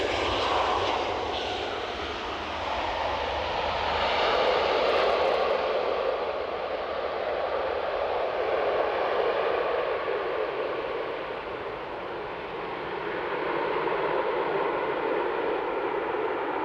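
An aircraft makes a low pass over Edinburgh Airport without landing, its engine roar loud and steady throughout, swelling and easing slightly as it goes by.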